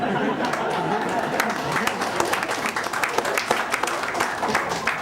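An audience at a motivational success seminar claps in a lively burst of many hands, mixed with crowd chatter and a few chuckles, with some voices heard over the clapping.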